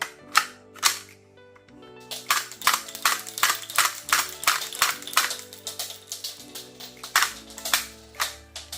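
A plastic toy HK USP9 laser pistol with a metal outer barrel firing and ejecting shell casings, a rapid series of loud, sharp cap-like snaps with clicking mechanism noise, about a dozen shots after a short pause, close and without talk.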